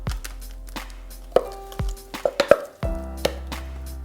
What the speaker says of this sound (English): So now literally all we do is just spoon it into the loaf tin.